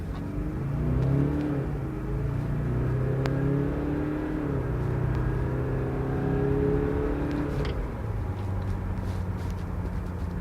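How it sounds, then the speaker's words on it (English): A Mazda CX-5 turbo diesel accelerating hard from a standstill toward 100, its engine note rising and holding steady with gear changes, loud and continuous throughout. "I'm now going to attempt a very quick 0 to 100 run."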